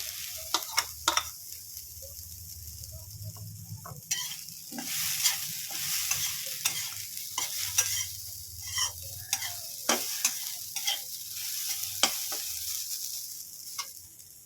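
Coconut filling for korolla pitha being stirred in a pan, a steady close scrape and sizzle with scattered sharp clicks of the utensil against the pan, no talk.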